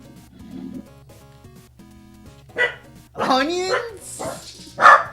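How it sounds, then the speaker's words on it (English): Within a video game, a dog lets out a few loud, angry barks and yelps, each a short burst over quiet looping background music. The barking comes in separate bursts with brief pauses between them. "Dog heard about onions. Dog is mad."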